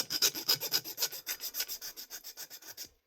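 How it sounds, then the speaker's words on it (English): Metal file rasping across the fibre bobbin of a handmade guitar pickup to smooth its eyelets, a steady rhythm of about twenty quick, bright strokes, close and alone, fading out at the end. "now take a bit of a file"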